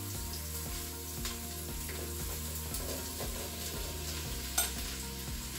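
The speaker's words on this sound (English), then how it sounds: "Now we want to give this a stir to coat all of the mix in the oil." Onions and red peppers sizzle steadily in hot oil while a utensil stirs through them with a rhythmic scraping pulse, a continuous close frying hiss with no talking.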